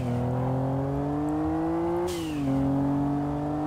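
A racing car in the Kaido Racer video game drones steadily at high revs, then lets out a sharp, hissing turbo blow-off valve burst as the throttle lifts, with the engine note dipping before pulling on again.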